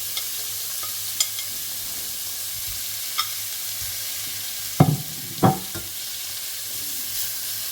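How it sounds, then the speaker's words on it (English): Beef browning in oil in a large pan, with a constant soft sizzle broken by a few sharp clinks and two louder scraping stirs of a utensil against the pan. "Now I'm going to cook the beef and make sure the beef is nice and brown"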